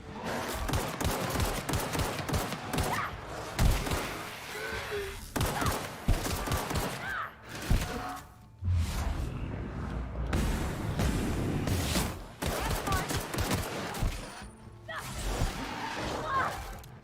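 Gunfire in the video game The Outer Worlds, with rapid volleys of shots and crashing impacts that keep going in dense bursts with brief pauses, loud and close, while a player speaks now and then.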